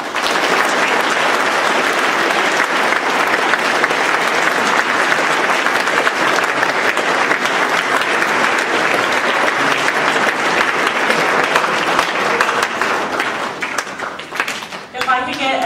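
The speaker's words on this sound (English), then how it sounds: "another big round of applause for Mr. Goulet for giving an amazing speech" Sustained, loud applause from a sports banquet audience after a speech, dense and even clapping filling the room for many seconds before thinning out at the end.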